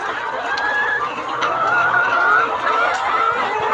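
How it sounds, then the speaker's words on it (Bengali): Inside a large egg-laying poultry shed, a crowd of hens keeps up a loud, continuous clucking and cackling chorus, many birds overlapping with no clear pauses. "এই দেখেন খামারের ভিতরে আসলেই এই যে মুরগিগুলো কর কর শব্দ শুরু করে দেয়।"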